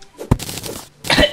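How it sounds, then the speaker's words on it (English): A single sharp, forced cough bursts out at close range, followed by a short breathy vocal sound and a second rough burst near the end, loud against a quiet background. "Could you cough any harder?"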